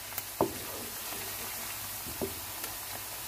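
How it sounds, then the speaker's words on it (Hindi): Onions fry in a pan with a continuous soft sizzle, broken by a couple of distinct stirring knocks against the metal, heard up close with no talk. "और इसे थोड़ा सा फ्राई करेंगे। प्याज हमारा ब्राउन हो रहा"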